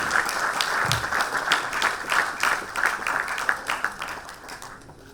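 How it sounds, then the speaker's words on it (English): Audience applause at the 2019 FMSCI annual motorsport awards ceremony: a sustained, dense wash of clapping from a large hall crowd, fairly loud and steady throughout, easing slightly toward the end. "Let's have a round of applause for him, ladies and gentlemen."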